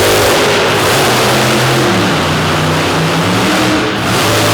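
A monster truck engine, the big square-bodied American Scout, revs hard at a monster truck show on a track in Corbin, Kentucky, producing a loud, continuous roar that rises and falls with dense low rumble throughout.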